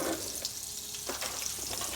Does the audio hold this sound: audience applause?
no